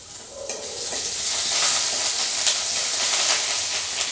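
Garlic paste hits hot oil already tempered with a bay leaf and whole garam masala, giving a steady, close, bright sizzle and hiss that builds slightly and holds throughout.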